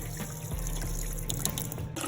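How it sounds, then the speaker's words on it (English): Tap water runs steadily into a basin holding dry fish, a continuous close splashing and trickling flow that fills the whole stretch without pause. "I'm going to add some tap water, and then I'm going to add some hot water."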